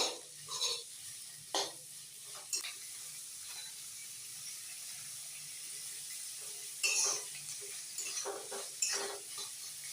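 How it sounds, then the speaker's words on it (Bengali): A spoon stirs onions and chicken mince together in a hot pan, giving sporadic scraping strokes over a soft, continuous sizzle, close by and without speech. "পেঁয়াজ আর চিকেনের কিমাগুলো আমি একসঙ্গে নাড়াচাড়া করবো।"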